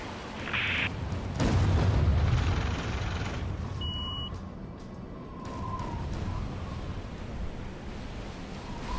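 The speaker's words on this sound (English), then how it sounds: "GAO is using quad missiles over the city" Missile strikes exploding over a city in the War Zone Middle East strategy game, heavy rumbling booms swelling and fading over a continuous low roar, with a faint beep partway through.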